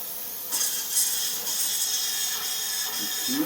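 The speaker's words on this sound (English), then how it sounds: "You clean up the ice with warm helium." Steady hiss of warm helium gas blowing ice off a superconducting gravimeter cold-head, a continuous airy rush at moderate level with small mechanical ticks.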